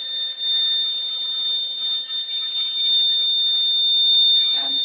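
A mobile-controlled electronic buzzer gives off a continuous, shrill, steady tone close by, holding unbroken for several seconds with only faint background noise.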